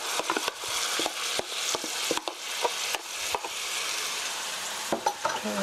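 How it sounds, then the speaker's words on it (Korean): Kimchi stir-fried in a pan with sliced onion, garlic and green onion for kimchi stew gives a steady close sizzle, broken by repeated sharp clicks and scrapes of a utensil stirring against the pan. "이렇게 해서 스터 프라이 5미닛 5분 정도 볶아주세요."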